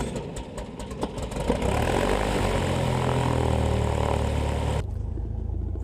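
A light propeller airplane drones steadily through a flight lesson, its engine building to a loud, even roar before dropping away sharply near the end.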